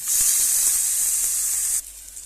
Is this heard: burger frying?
yes